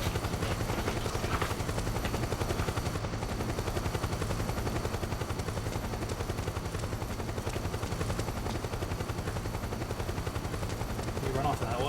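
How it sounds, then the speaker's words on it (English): A helicopter in Metal Gear Solid 4: Guns of the Patriots drones continuously with rapid rotor chopping, mixed with dense bursts of gunfire, loud and steady throughout. "I wonder if I can blow that helicopter up."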